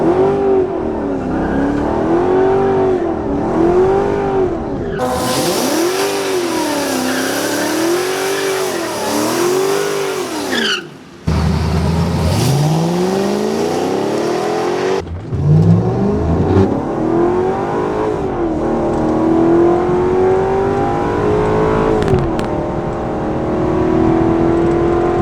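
A car accelerates hard on a race run, the engine climbing and dropping through repeated revving sweeps with gear changes, loud and close throughout and no talk over it.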